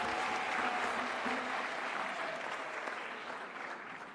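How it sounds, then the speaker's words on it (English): Sustained audience applause at a university ceremony for the Madam Chancellor, a dense wash of many hands clapping that holds steady and fades slightly toward the end. "Can we give our Madam Chancellor a big round of applause"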